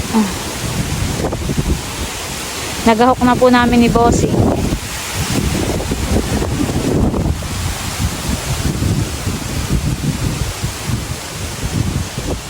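Strong wind roars across an eggplant garden and rustles the plants, a continuous loud rush over the microphone, while someone speaks briefly near the start.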